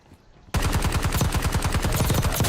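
Rapid automatic gunfire in a video game, loud and close, starting abruptly after a brief quiet moment and continuing as a steady burst of evenly spaced shots.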